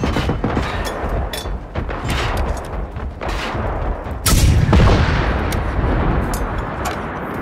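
Gunfire in the video game Generation Zero, a dense run of loud rapid shots and bursts, with a heavier booming volley midway, sustained throughout with no talk.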